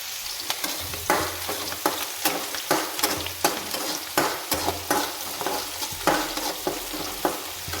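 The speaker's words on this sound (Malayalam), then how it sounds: "ഉള്ളി മൂക്കുന്ന നമുക്ക് ഇളക്കി കൊടുക്കാം" Onions sizzle in a pan while being stirred, with repeated sharp scraping strokes of a spoon over a steady frying hiss, close and continuous.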